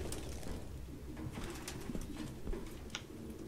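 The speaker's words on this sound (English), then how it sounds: "No human could live with all these fucking pigeons." Pigeons coo in the video game Detroit: Become Human, a soft, continuous murmur of cooing birds under a steady low background hum with a few brief chirps, and no one speaking.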